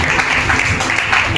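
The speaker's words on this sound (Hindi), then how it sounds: "इस वक्त फिर से जोर से ताली बजाएंगे" Loud, steady applause from a church congregation, a dense continuous clatter of many hands with no gaps.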